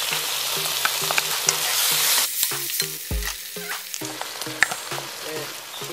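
Chicken frying and being stirred in a pan with oyster sauce and fish sauce for chilli jam chicken, a steady hiss punctuated by repeated scraping and clattering strokes of the utensil against the pan.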